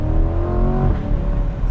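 2024 Chevrolet Corvette C8 Stingray 3LT with a mid-engine V8, revving hard close up and then dropping sharply in pitch as the throttle lifts, loud and alone with no talking.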